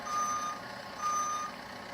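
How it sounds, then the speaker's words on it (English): Two long electronic reversing beeps from an RC digger sound in a row, steady and fairly clear over a low motor hum. "either one of the tractors is going backwards, it automatically will get that beeping sound"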